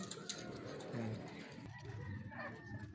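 A racing pigeon, a gift bird from a champion breeder line, gives soft low coos up close while a person talks over it.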